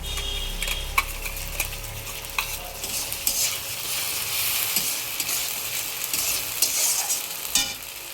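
A paste of ginger, garlic, tomato and green chilli fries with onions, sizzling steadily while a spoon scrapes and stirs in quick ticking strokes, close by with no voices.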